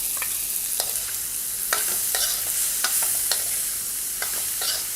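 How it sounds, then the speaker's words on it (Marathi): Onion and tomato sautéing in a pan for a spicy egg masala curry, a steady close sizzle with repeated scraping strokes of a spatula and no talk. "आता इथे कांदा टोमॅटो आपला छान परतलेला आहे"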